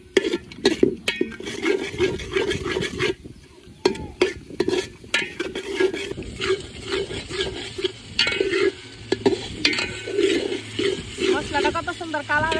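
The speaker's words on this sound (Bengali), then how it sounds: "মশলাটা খুব ভালোভাবে কষে নিচ্ছে" Spice paste sizzling and frying in oil for khichuri with lentils and chicken, stirred repeatedly with scraping strokes, a close, steady crackle throughout.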